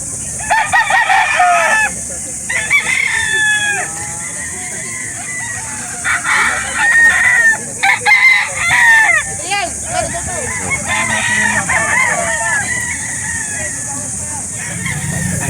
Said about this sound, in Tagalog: Marami ho nagdala ngayon ng manok, oh.